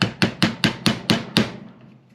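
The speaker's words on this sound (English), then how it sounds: "Use a nice sharp chisel, which I just happen to have one here." A hammer strikes a sharp chisel driven into wood about seven times in a quick, even rhythm, each crisp knock close and loud, the blows then stopping and leaving quiet.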